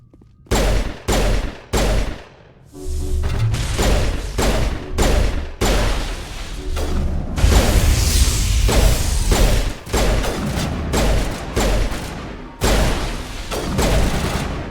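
Turret gunfire from the video game Mass Effect Legendary Edition fires in repeated loud, sharp bursts with short gaps between them, building to a longer sustained volley near the middle.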